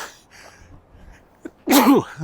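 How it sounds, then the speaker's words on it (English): A single loud, close sneeze bursts out after a couple of quiet seconds, preceded by a faint sharp inhale. "And I think there's a sneeze coming."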